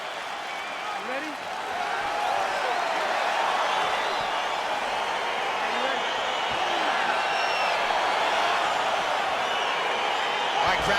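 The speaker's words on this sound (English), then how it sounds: "crowd getting excited as this fight gets underway" A UFC crowd in the arena roars steadily as a bout between Jamahal Hill and Vitor Belfort gets underway, a dense, sustained wash of cheering and whoops across the whole span, with a commentator talking faintly underneath.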